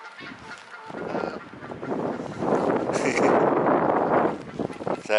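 Swans on a bird island honk repeatedly at close range while following along, a dense overlapping chorus of calls with some wind buffeting the microphone.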